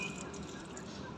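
Water is poured in small amounts into cages of birds such as Aseel roosters and pigeons, giving a faint, steady trickle with light dripping.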